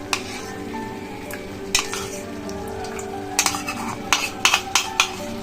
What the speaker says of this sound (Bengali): এবার আমি এই ফেটানো টক দইটা দিয়ে দিচ্ছি।